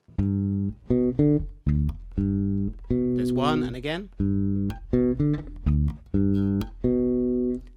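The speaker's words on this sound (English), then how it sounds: "in the introduction, you play that pattern twice off the G." A short phrase of sustained, bright instrument notes played off G, the introduction pattern of a song, plays, then repeats, with a brief spoken remark in between.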